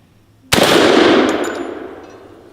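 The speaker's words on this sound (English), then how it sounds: "I'm going to shoot right at the middle of the cowboy" A single loud 12-gauge automatic shotgun blast strikes a steel cowboy target, the bright metallic clang ringing out and fading over about two seconds.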